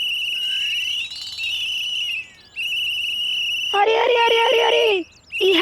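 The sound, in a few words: snoring that sounds like a whistle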